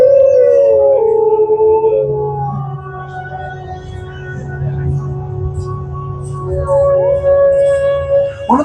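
Wolves howl at a county fair in long, wavering, overlapping cries that rise and slide, loud and fairly close, with a low rumbling murmur of crowd and background noise underneath.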